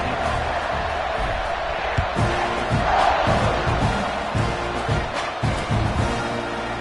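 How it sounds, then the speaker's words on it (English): A stadium crowd roars in the College Football 26 video game, a loud sustained wash of cheering with thumps and swells, under faint commentary. "You think this crowd's going to get loud when their defense comes on the field?"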